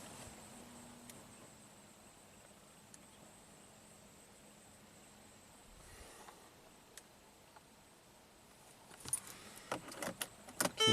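Keys jangling in a Mercedes-Benz AMG after the ignition key is turned off, a quiet cabin broken by faint clicks and then a burst of close metallic jingling near the end.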